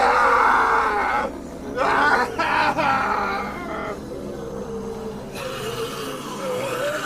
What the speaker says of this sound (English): his screams filled the air as they tore into him, ripping him apart